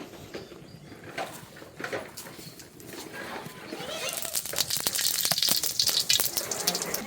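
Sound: cumin and bay leaf frying in oil

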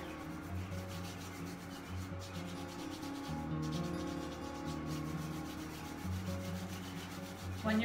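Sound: rubbing hands together

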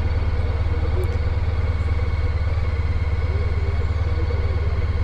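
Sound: Honda ST1300 Pan European motorcycle engine idling at traffic light

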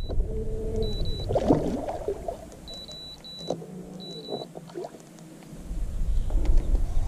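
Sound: boat trolling motor running

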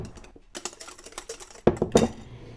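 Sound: whisking eggs, sugar and kefir batter with a whisk

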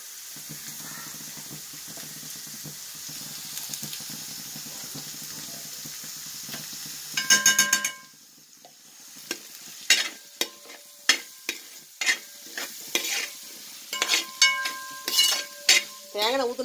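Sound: ginger and garlic frying in ghee for chicken biryani

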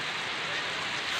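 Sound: rain falling

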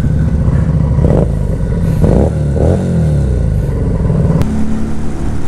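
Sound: Fekon 3GP motorcycle engine revving on test ride

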